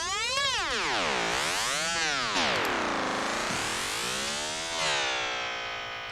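Ableton resonator tone with ping-pong stereo delay, a bright, harmonic-rich wail that sweeps up and down like a siren in slow waves, sustained and continuous throughout without any talking.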